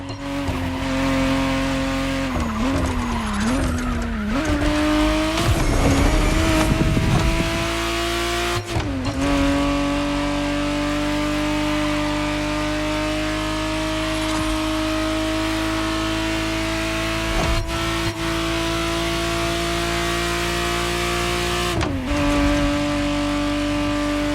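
A Ferrari Testarossa 512 TR, the 1991 re-engineered version, roars steadily in The Crew Motorfest, its engine holding a loud, sustained tone with revving shifts and brief tire squeals early on, alone without voices.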